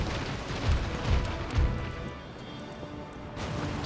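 Ship cannons firing in a naval battle in Empire Total War, three heavy booming shots in quick succession followed by softer distant crashes and rumble.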